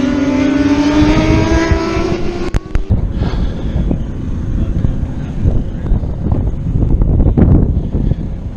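Racing motorcycles in a CCS endurance race at a road course scream past, the engine whine sliding down in pitch as they go by, followed by loud wind-buffeted roar.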